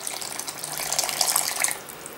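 Water poured into a bowl of wholemeal cake batter made with cane sugar, oil and eggs, a steady close trickle with a light splashy hiss that rises slightly and then stops abruptly.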